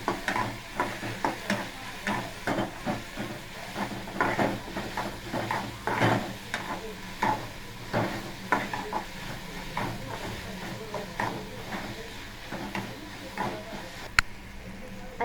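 Curry leaves, tomato and green chilli being sautéed in a pan, with a steady sizzle and frequent rhythmic scrapes and knocks of a spoon stirring against the pan, a voice speaking over it.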